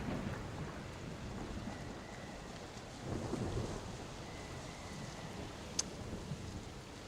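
A thunderstorm with steady rain and rumbling thunder outside, with a low roll building midway and a brief sharp crack near the end, all fairly distant and continuous with no talk.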